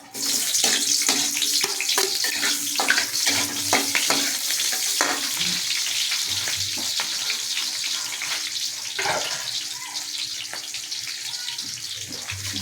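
Pork ribs, softened beforehand, sizzle and fry with string beans in a pan, giving a steady hiss with stirring clatter and scraping throughout, loud and close with no talking.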